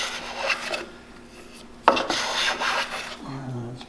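Hand tools rasping and rubbing along a curved wooden surface, a close, steady scraping in repeated strokes with one sharper stroke partway through, and no talking.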